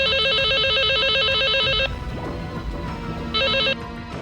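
A telephone rings indoors in a TV drama scene: a loud electronic trilling ring for nearly two seconds, a pause filled with low background sounds, then a second shorter burst of the same ring.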